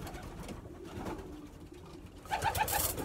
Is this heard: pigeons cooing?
yes